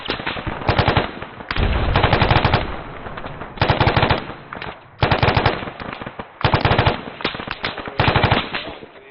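Heavy .50-calibre machine guns fire during a military field training exercise, long sustained bursts of rapid, loud automatic gunfire separated by brief pauses, repeating in several strings.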